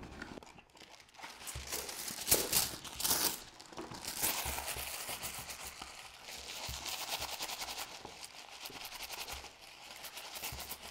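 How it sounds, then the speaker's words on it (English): A sheet of wax paper scrunched and rustled by hand, giving continuous close crinkling and crackling with louder bursts early on, then an even rustle. "You want to scrunch up the paper and just really rustle it around."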